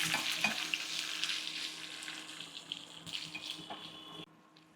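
A tempering of curry leaves and asafoetida with cumin, for pepper rasam, sizzles in a pan as it is stirred; a bright crackle starts strong, gradually fades with occasional scrapes, then cuts off abruptly near the end.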